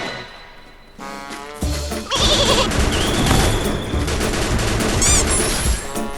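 Gunfire in a shooter video game: dense, loud bursts of automatic shots rattling continuously, with overlapping game sound effects and no talking.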